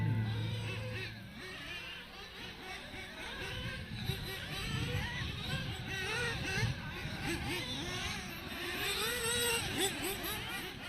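Radio-controlled race cars run laps on a track at a Halloween club race, their high whining motors overlapping in a steady buzzing drone with surges and fades as they pass, heard at some distance with a faint loudspeaker voice underneath.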